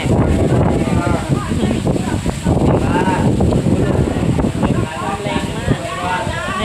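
Cold wind blowing outdoors, buffeting the microphone in a loud, continuous roar, with people talking over it throughout.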